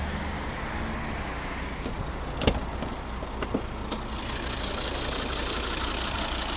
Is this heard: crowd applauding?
no